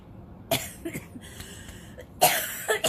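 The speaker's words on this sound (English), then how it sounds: "excuse me, that made me cough" Two bursts of harsh coughing, one short and then a louder double cough, from a person close by with quiet pauses between.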